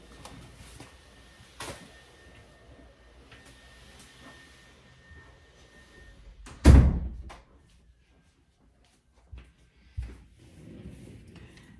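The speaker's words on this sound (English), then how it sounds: "Let me close my door." An indoor door swings shut with one loud thunk about midway, amid quiet rustling and light handling noises of a sewing workspace, followed by a couple of softer knocks.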